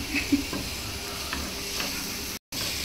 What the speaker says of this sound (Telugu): కొంచెం కొత్తిమీర వేసేసి ఫైనల్గా రోస్ట్ చేసుకోవాలి